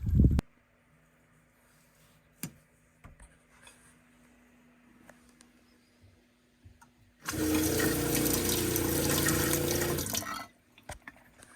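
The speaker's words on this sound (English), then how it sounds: "Running water." A few faint knocks and clicks, then a loud burst of running water gushing from a flexible hose attachment in a Ford Transit camper van for about three seconds before stopping abruptly.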